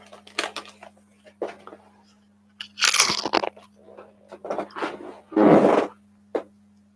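Homemade keto chips crunched right at the microphone, several sharp, crisp bites and chewing bursts spaced irregularly over a quiet room with a low steady hum.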